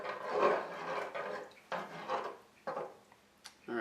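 Pasta with eggs and seasoned condensed milk is stirred in a pot for a three-cheese pasta, making faint, irregular scraping strokes against the pot in a quiet room.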